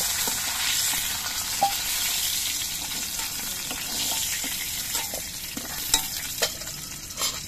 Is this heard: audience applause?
no